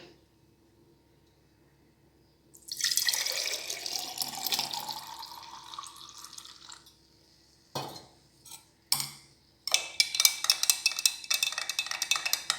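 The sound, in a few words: pouring buttermilk into a bottle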